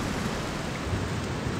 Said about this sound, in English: Magnificent rain!